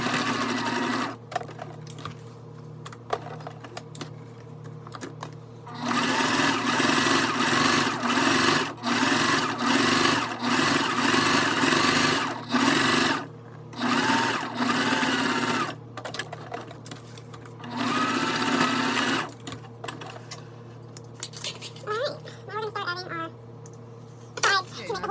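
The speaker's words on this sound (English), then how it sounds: "we need to go ahead and stitch this closed all the way" A sewing machine stitches a fabric bag closed in several bursts, its fast, buzzing motor starting and stopping over a steady background hum, with a person talking between and during the runs.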